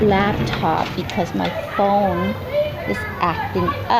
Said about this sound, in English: excuse the noise because that's the school